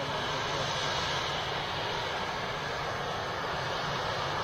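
Jet engines of an Etihad Airbus A380 roar in a sustained, even wash of noise from a distance, unbroken and steady from start to finish.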